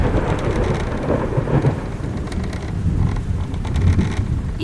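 Heavy rain pours steadily with deep rolling thunder rumbling underneath, a dense, continuous storm with no voices.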